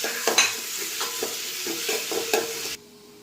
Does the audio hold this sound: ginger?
yes